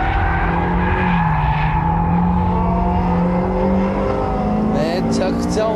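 Ferrari 360 sports car engine pulling hard while driving, a loud continuous roar with shifting pitch as revs rise and fall, heard from inside the car with occupants talking over it.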